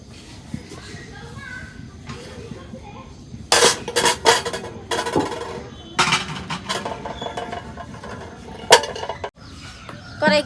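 A wok set on a lit stove and handled, giving metallic clanks and scrapes in short bursts, with voices and children nearby.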